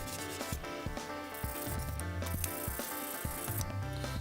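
Rhythmic rubbing strokes from hand polishing faded carbon fiber, wet-sanding style, repeating close and steady over background music-like tones without speech.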